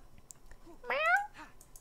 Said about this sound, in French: J'entends le chat qui miaule.